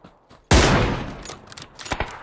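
Gunfire in the battle royale game PUBG: a sudden loud blast bursts in and rings out with a rolling decay, followed by a few fainter distant shots.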